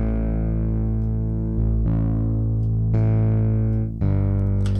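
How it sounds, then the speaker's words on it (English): Virtual bass guitar plugin playing through its overdrive section, a few distinct gritty, distorted bass notes struck in sequence, loud and close with no speech. "There's also an overdrive section here."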